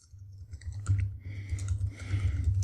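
CSS code typed on a computer keyboard, a close run of light, irregular key clicks with a faint low hum beneath.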